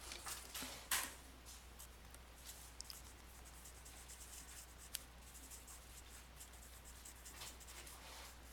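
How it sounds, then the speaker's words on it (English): Soft scratchy strokes of writing on a board during a finance math lesson, close and faint, with a few sharp taps among quiet rubbing. "So I'm just going to write that here."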